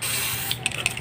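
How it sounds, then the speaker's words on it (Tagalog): WD-40 sprayed onto a car brake caliper during cleaning, one continuous hissing burst lasting about a second, close and loud, ending with a few sputtering pulses. "Spray muna natin ng"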